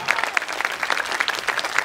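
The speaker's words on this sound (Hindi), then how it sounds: "अगर हो पाए तो तालियां बजाइए" Audience applause at a cultural festival stage event, a dense burst of many hands clapping close and steady with crowd noise, continuing briefly without talk over it.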